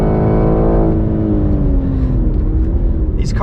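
A 2021 BMW M3 Competition on track in automatic, its engine revving hard toward redline, a loud rising howl that eases as the shift comes, heard from inside the cabin.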